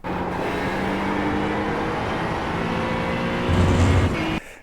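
Honda NSX GT3 race car in iRacing at Watkins Glen, its engine holding a steady droning note with a gear-like shift in pitch near the end before cutting off abruptly, loud and continuous with no talk.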